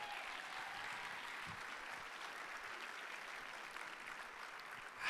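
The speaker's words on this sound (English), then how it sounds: "Give our donors a big round of applause." Audience at a fundraising gala applauds the donors, a steady wash of many hands clapping that holds at an even level for about five seconds, with no speech over it.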